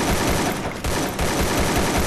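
AK rifle fire in Garena Free Fire: loud, rapid automatic bursts with a tight, even rhythm and a brief dip in the middle before the firing carries on.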